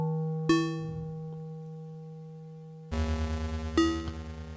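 Nord Micro Modular synth patch playing bright plucked notes over a steady sine-like drone, with a sharp attack at the start and a denser, buzzing bass layer entering midway.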